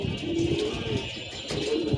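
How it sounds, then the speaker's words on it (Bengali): Pigeons settling onto a perch on a hot day give low, soft coos close by, with wing flutters and a voice underneath. "এই যে কবুতরগুলা ল্যান্ডিং টাইম হয়ে গেছে"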